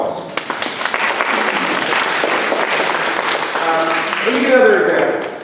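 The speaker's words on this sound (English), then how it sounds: "Let's give a round of applause." Audience applauding after a guest's remarks at a conversation event, a full steady clatter of clapping that swells slightly before fading, with a voice rising over it near the end.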